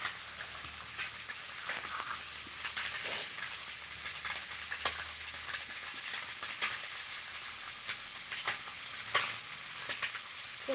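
Food cooks in a pan with a steady bright sizzle and hiss, broken by scattered small crackles and pops at moderate volume, with no voices.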